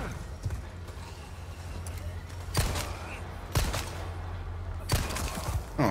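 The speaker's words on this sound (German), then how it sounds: "Oh, das war ein Schuss zu viel." Gunshots ring out in the video game Resident Evil 4, three sharp, loud reports spaced about a second apart over a low rumbling game ambience.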